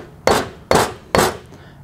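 A hammer strikes the clevis of a 2023 KTM 300XC rear shock during a re-valve service, giving three sharp, evenly spaced metallic knocks at close range, each ringing out briefly before the next.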